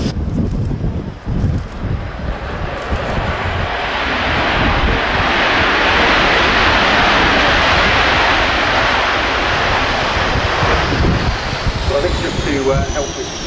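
A Tornado jet lands at RAF Fairford with thrust reversers deployed and power pushed up, giving a loud, sustained broadband engine roar that swells and holds near the runway, mixed with wind buffeting on the microphone.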